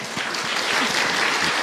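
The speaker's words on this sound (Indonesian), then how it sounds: "Tepuk tangan dong untuk Ahilman, Bu." A crowd at an Islamic religious lecture breaks into loud, dense applause that holds steady for the whole short stretch, with no one speaking over it.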